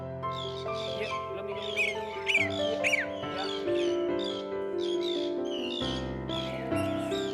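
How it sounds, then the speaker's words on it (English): Young bird chicks giving high-pitched, shrill begging calls: repeated thin rising chirps and whimpers over a steady tonal background, moderately close. "The parents can hear the high-pitched calls of the young birds from great distances."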